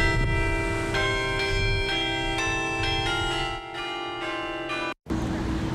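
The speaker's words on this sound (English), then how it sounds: "a salute bell sounded, marking when the plane hit Tower 1" A salute bell at a 9/11 memorial rings in a steady series of strikes about every half second, each tone ringing on and overlapping the next, before stopping abruptly near the end.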